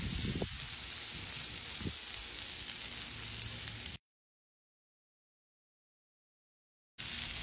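Parboiled potatoes fry in oil on a hot grill with a steady, close sizzle for about four seconds, broken by a few soft stirring clicks, then silence before the sizzle returns.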